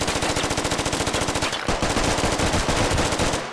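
Sustained machine gun fire in the tactical shooter Squad, rapid loud bursts in a fast steady rhythm, briefly pausing mid-way before resuming.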